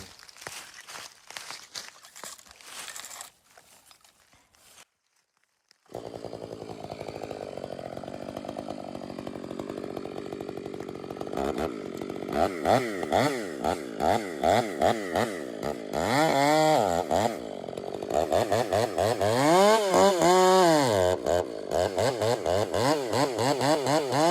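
A chainsaw bore-cutting into a tree trunk, starting with intermittent revving and a brief pause, then running continuously at high revs with the pitch rising and falling as it works harder through the wood.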